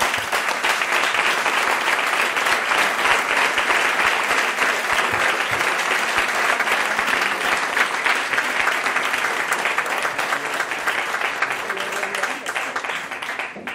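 A large crowd claps loudly and steadily at a Madrid public event on public radio and television, greeting a longtime union leader as she comes up to speak. The dense applause holds for the whole stretch and eases slightly near the end.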